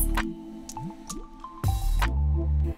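Water sloshes and drips around a spray tan applicator nozzle soaking in water with gun cleaner, from an Apollo T-5020 unit; close, wet gurgles and drips, with a louder bubbling gush near the end.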